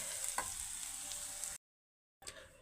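Long beans (achinga payar) frying with spices in a pan give a close, steady sizzle with light stirring scrapes, broken by a brief silent gap before the hiss resumes.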